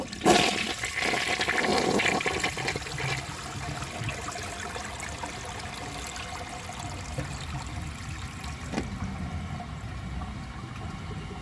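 A 1980 Crane Radcliffe toilet flushes a dish towel, a loud rushing gush at first that settles into a steady swirling drain and trickle heard up close.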